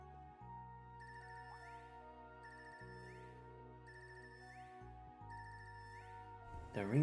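A synthesized phone ringtone in a video game repeats in a looping electronic melody over a low sustained tone, ending in a burst of other noise.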